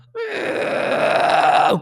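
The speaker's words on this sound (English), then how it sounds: "and this is called a fry scream." A harsh, gravelly vocal fry scream holds for nearly two seconds, close and loud, rising slightly before cutting off.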